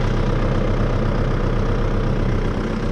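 A heavy tractor engine idles steadily and loudly with a constant low chugging rumble, unchanging throughout.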